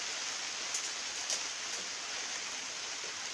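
Steady rain falls on a farm during the Pola bullock festival, a constant even hiss with no voices, a couple of brief brighter spatters standing out near the start.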